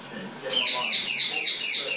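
A pet macaw gives a string of loud, harsh squawks in a training session indoors, about five rhythmic calls in quick succession, close to the listener, with faint talk underneath.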